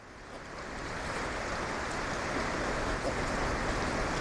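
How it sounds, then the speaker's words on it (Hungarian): Huge storm waves crash over the rocks of an uninhabited island, a loud, continuous roaring surge of surf and wind with no break. "most meg 5-10 méter magas hullámok csapnak át a sziklám fölött."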